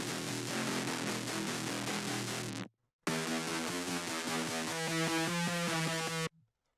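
A duplicated Dark Wave synth track plays a lower octave with sustained notes, thick and loud, then cuts off briefly before returning with a denser, pulsing texture and stopping abruptly.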